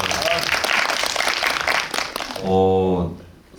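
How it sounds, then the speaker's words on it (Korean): An audience at a film screening Q&A gives birthday applause: a couple of seconds of dense clapping, followed by a voice speaking close up. "저희 생일 축하 박수 한번"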